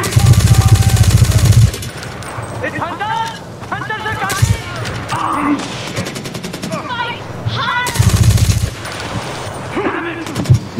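Gunfire in Far Cry 4 while hunters attack: loud, rapid automatic bursts open and close the stretch, with scattered single shots between and voices speaking over the action.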